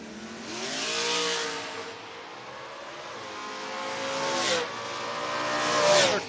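Footbrake drag racing cars, among them a 1972 Camaro, launching hard and accelerating away, engines rising and swelling in pitch as they pull down the strip, loud and sustained with several surges.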